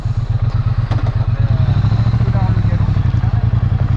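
A car engine idles steadily with a low, even rumble on a road trip through California between San Simeon and Santa Cruz. Clatter and knocks come in on top, and people talk over it.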